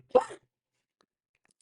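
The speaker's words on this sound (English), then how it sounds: "I got a cough" A single short cough from a man, one sharp burst followed by near silence.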